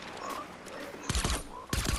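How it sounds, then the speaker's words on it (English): A bot firing a gun in the video game Fortnite, heard as two loud, rapid bursts of shots in the second half over a busy game background. "that's a bot shooting at you, Ozzy."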